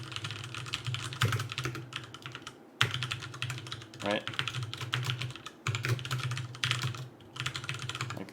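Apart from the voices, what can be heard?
computer keyboard typing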